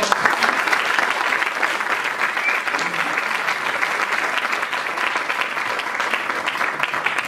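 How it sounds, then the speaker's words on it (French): Sustained audience applause at a 2016 charity and social economy forum in France, a dense, even wash of many hands clapping without pause for the whole stretch, fairly loud and close, with no talk over it. "Allez, ça vaut encore des applaudissements."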